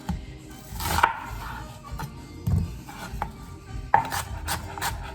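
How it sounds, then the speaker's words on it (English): An onion being sliced with a knife for guacamole: soft, irregular cuts and rubbing scrapes on a board, quiet and close, with a few sharper taps spaced a second or so apart. "now we are going to slice a little bit of onion"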